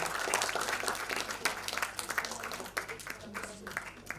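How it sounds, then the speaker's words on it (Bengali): Audience applause at a Bengali cultural felicitation event for the Navi Mumbai Bengali Association, a sustained dense round of clapping from a crowd that swells and then breaks into scattered, uneven claps toward the end. "জোরে হাততালি।"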